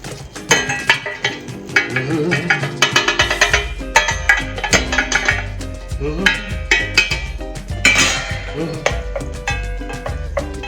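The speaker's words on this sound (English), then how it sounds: "In with your tomatoes, with all that olive oil and all those juices." Tomatoes with olive oil and their juices go into a pot on a gas stove, sending a busy run of loud clinks, knocks and clatters of cookware and utensils along with a wet splash, with a voice speaking intermittently.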